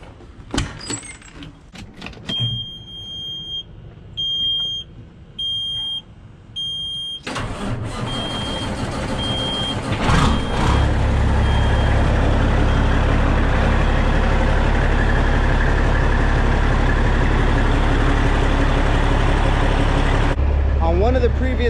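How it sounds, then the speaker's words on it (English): A truck engine starts up and runs steadily to build air pressure for trailer axle-lift valves, a loud continuous rumble filling the scene after earlier clanks and a high electronic beeping, with a brief hiss near the end. "What I'm gonna do right now is turn the truck on, build some air pressure, and we'll see how those valves work."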